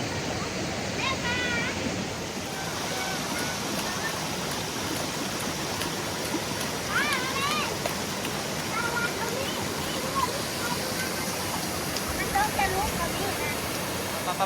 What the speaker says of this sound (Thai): นี่น้ำตกค่ะน้ำตกที่ข้างสวนเรานะคะ